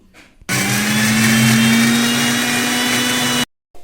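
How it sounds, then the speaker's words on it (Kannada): A mixer grinder whirs at a loud, steady pitch for about three seconds, blending garlic, ginger, onion and coriander in its jar, starting and stopping abruptly. "ಒಂದು ಮಿಕ್ಸಿ ಜಾರ್ ತಗೊಂಡು ಸ್ವಲ್ಪ ಬೆಳ್ಳುಳ್ಳಿ, ಶುಂಠಿ, ಈರುಳ್ಳಿ, ಕೊತ್ತಂಬರಿ ಹಾಕೊಂಡು ರುಬ್ಕೋಬೇಕು"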